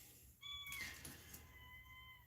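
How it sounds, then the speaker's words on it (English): A cat meows twice in the background, faint and drawn-out, in a room where a 1959 Smith-Corona Super typewriter is being repaired. Low steady room noise sits under the calls. "that noise in the background is my cat."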